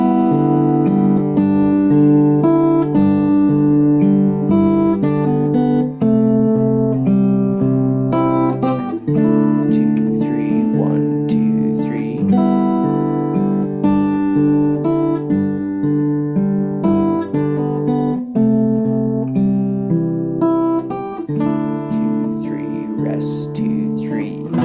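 Guitar chords of a song are strummed in a steady three-beat pulse, clear and close, ringing on without voices.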